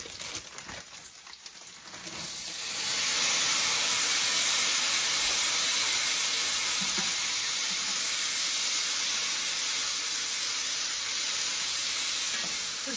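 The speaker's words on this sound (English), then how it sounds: "I'm going to toss it into this pan with this cooked onion and garlic" Green beans tossed into a hot pan with cooked onion and garlic, sizzling loudly and steadily after a quieter start, with occasional stirring scrapes under the continuous frying hiss.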